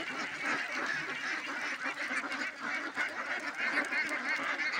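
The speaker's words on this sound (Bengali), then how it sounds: "তো সবাই আমার হাঁসগুলোর জন্য দোয়া করবেন।" Five hundred young farm ducks keep up a thick, unbroken quacking din, many birds calling at once close by with no pauses.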